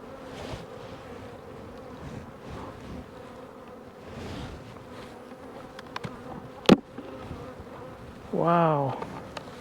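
A low, steady hum of many bees rises around an open hive, with one insect zipping close past the microphone and a brief voice near the end.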